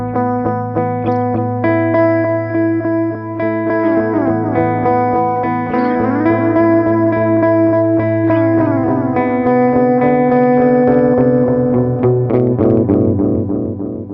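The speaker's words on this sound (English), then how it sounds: "The delay is actually louder than my guitar's original signal." An electric guitar riff runs through a delay pedal set to maximum level, dense repeating echoes piling up louder than the dry notes, a continuous smeared wash of sound with no talk.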